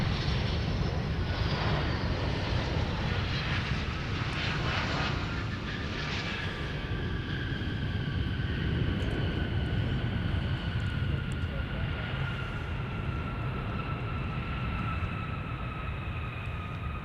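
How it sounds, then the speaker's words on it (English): A Boeing 757-300 airliner touches down at Minneapolis–St. Paul airport, its engines roaring steadily and loud with a rising whine and broad rumble, while a voice talks over it throughout. "let's take a look at our 757-300 touching down"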